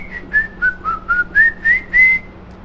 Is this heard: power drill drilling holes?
no